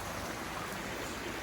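River water tumbling down cataracts, a dense, steady broadband rush of falling water that holds constant and fairly faint throughout.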